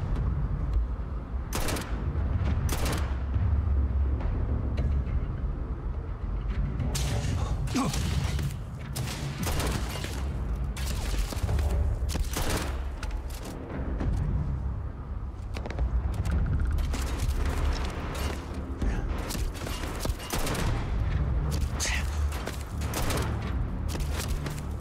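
Gunfire in the sci-fi game Starfield: Shattered Space, with repeated sharp shots and bursts popping over a dense, steady bed of game noise and mechanical clatter for the whole stretch.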